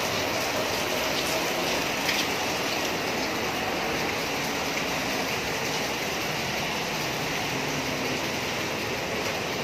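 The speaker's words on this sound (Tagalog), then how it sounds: "Lakas talaga ng ulan." Heavy rain falls steadily outdoors during a signal number 3 typhoon, a dense continuous hiss of downpour and water with no pauses, loud and close throughout.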